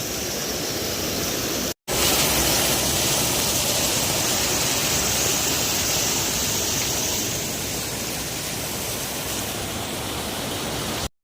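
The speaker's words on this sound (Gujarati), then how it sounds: "ફાઇનલી હવે આપણે પહોંચી ગયા છીએ બેસ્ટમાં બેસ્ટ જોઈ લો આ ધોધ છે" Loud continuous thunder of falling water, a dense rushing roar that holds steady throughout, broken only by two brief dropouts.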